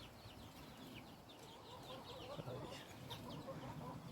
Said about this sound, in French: Là-bas les poules.